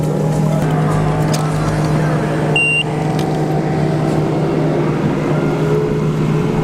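A motorboat engine drones steadily and loudly as the boat takes off, with rushing wind and water, a brief electronic beep briefly cutting through.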